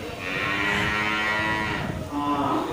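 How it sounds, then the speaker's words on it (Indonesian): A Simmental cow at a cattle market lows in one long, loud, close moo, followed by a shorter second call. "ini satu ekor sapi jenis sapi simental"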